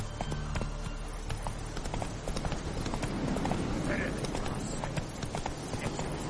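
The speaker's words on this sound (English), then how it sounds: "Whoa there, Roach!" Horse hooves clip-clop steadily at a run in The Witcher 3: Hearts of Stone, a busy rhythmic patter of hoofbeats over game music and ambience, with a voice speaking over it.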